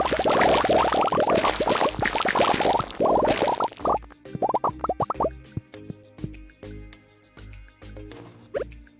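Slime collected in the Stardew Valley video game, heard as a fast run of wet, bubbly plops and drips, dense at first and then thinning into scattered droplets over soft background music.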